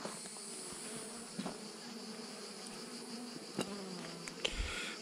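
Honeybees buzzing around a small swarm hive during an inspection, a continuous faint droning hum with occasional closer passes and light knocks, no voices.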